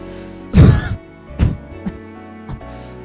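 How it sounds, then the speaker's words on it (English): A person coughs several times close up in the video game Irisu Syndrome, one heavy hacking cough followed by smaller ones trailing off. "Coughing."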